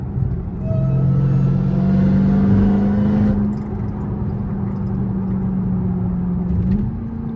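A Dodge Demon 170 Charger accelerates hard from 60 to 80 mph, its engine droning loud and close as the rising pitch climbs, then eases to a steadier rumble.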